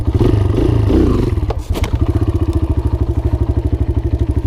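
A dirt bike engine during wheelie practice roars loudly up close, then drops to a fast, steady, lumpy idle with a regular thumping beat and some mechanical clatter.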